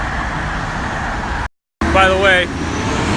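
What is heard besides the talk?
traffic on a road while walking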